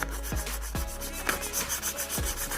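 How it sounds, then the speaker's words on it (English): Sandpaper of 180 grit is rubbed back and forth over a plastic car bumper in steady, close, rasping strokes, with a low repeated scuffing rhythm and no talking. "you want to go ahead and sand it with some 180"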